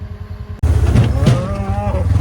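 A cow moos loudly and close by on a road, one long drawn-out call starting abruptly and holding steady, with a faint engine hum underneath.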